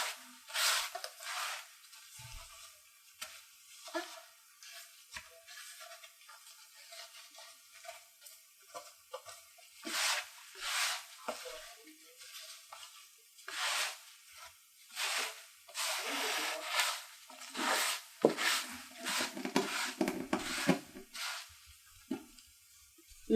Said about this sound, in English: chewing on cardboard, if you were wondering what that sound was